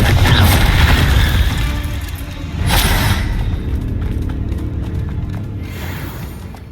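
A Confringo spell explodes during Hogwarts Legacy combat, a deep booming blast followed by a second burst and rumbling debris that fades away.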